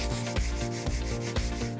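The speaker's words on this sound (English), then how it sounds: "It's out with the sandpaper and the elbow grease." Sandpaper rubbed by hand over an orange-toned veneer finish, a steady close scratching scrape with rhythmic strokes roughly every half second, no voices.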